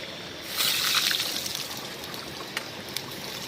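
Rain falling during outdoor cooking at a broiler chicken party at Basistha Dead End, a steady close hiss that swells louder for about a second, then settles, with a few sharp drips and ticks.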